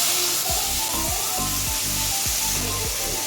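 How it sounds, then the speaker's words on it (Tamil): Pirandai (adamant creeper) frying in leftover oil in a pan: a steady sizzling hiss with a few dull stirring scrapes and knocks spaced through it. "இப்போ இந்த மிச்சம் இந்த எண்ணெயிலே இந்த பிரண்டையும் சேர்த்து நம்ம வறுத்துக்கலாம்"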